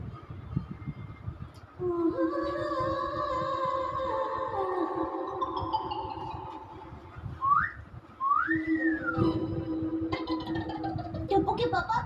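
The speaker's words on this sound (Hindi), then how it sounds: "टप्पू के पापा अपना सीटी क्यों मारी?" A man whistles at his wife in a Hindi-language TV comedy scene: a few sliding, rising-and-falling whistled notes near the middle, heard over steady background music and sound.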